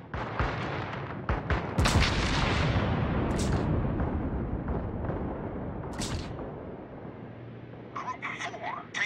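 Naval guns fire during a World of Warships battle featuring the Japanese carrier Ryujo. Sharp booming shots crack out over a sustained rumbling roar that slowly fades, followed by a few scattered later reports.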